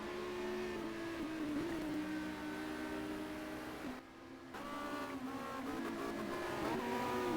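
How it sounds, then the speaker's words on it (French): Touring cars racing in the 1990 WTCC round at Le Mans, among them a Volvo, engines droning and shifting pitch steadily as the cars pass, with a brief dip in the roar midway before it swells again. "Et Hattori qui va peut-être tenter quelque chose là sur la Volvo dans les virages Porsche."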